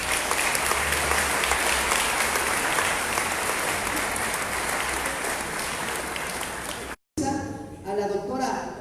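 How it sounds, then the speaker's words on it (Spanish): Sustained, loud applause from an audience at a public event in Chinda, Oaxaca, a steady dense wash of clapping lasting about seven seconds before a brief cut, followed by a voice speaking over lingering room noise. "para quien pido un fuerte aplauso"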